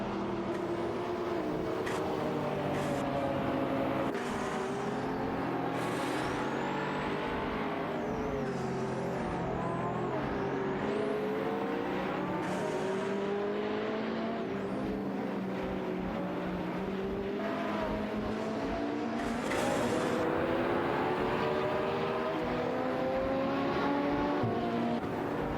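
Racing cars in a video game, including a Pagani Zonda F and a Ferrari, roar through a long stretch of shifting, rising and falling engine whines with gear changes and passing cars, loud and continuous throughout.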